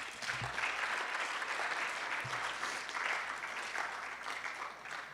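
An audience at a student election event applauds the candidates, a sustained even wash of many hands clapping, moderately distant, with a couple of low thumps near the start.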